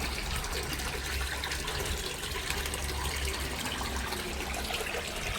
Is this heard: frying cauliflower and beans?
no